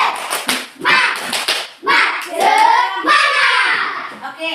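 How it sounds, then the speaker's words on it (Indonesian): Indonesian schoolchildren perform a rhythmic spirit clap in class, loud bursts of patterned hand claps mixed with children's chanting voices, close and energetic. "Ibu minta kita beri tepuk semangat dulu."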